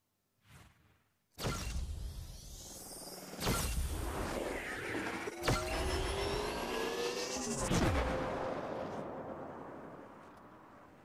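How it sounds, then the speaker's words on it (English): A car in the video game Drive Syndicate revs and whines through several loud engine bursts with whooshing swells and pitch sweeps, separated by brief abrupt cuts, then sustains a strong drone to the end. "I hate that sound reversing because it gives me PTSD"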